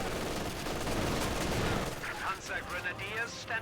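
MG42 machine gun fire in a Company of Heroes 2 battle, dense and continuous bursts amid other gunfire and explosions, fairly loud at first and then easing off under faint background talk.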